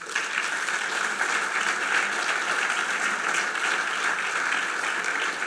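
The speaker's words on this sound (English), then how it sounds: "On peut les applaudir." Audience applause at a commemorative gathering for people who risked their lives, a steady, dense wash of clapping holding evenly from start to end without talk.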